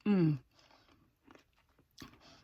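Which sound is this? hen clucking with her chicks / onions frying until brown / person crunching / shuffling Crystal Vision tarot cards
person crunching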